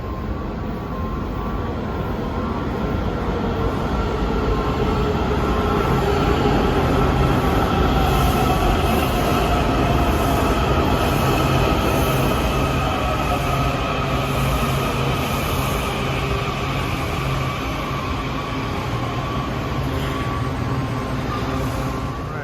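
A Washington Metro train rumbles steadily and loudly as it pulls away from Rhode Island Avenue–Brentwood station, its wheels droning and faintly squealing, with no voices.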